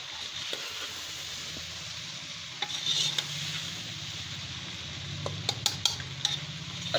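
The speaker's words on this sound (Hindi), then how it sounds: "अच्छी तरह से मिक्स कर लेंगे दोस्तों।" Okra masala (bhindi) gets mixed in a pan over low sizzling, with a spoon clinking and scraping against the metal in scattered bursts, louder clacks clustered toward the end.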